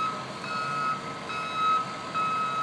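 A cement truck on a construction site emits steady, evenly spaced reversing beeps, clear and fairly loud over a low engine drone.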